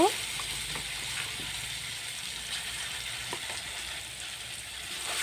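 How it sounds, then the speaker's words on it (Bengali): Dried red chilies fry in hot oil in a pan, giving a steady, even crackling sizzle that holds at a moderate level from start to finish with no talking over it. "শুকনো মরিচটা সুন্দর করে ভেজে নেব।"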